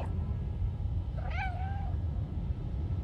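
A single drawn-out cat meow in the video game Stray, rising then falling, stands out clearly over a steady low rumble of background noise.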